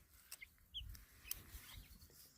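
Grey chickens and young chicks cluck softly and intermittently at close range, a few short calls scattered among quiet rustling with no talking.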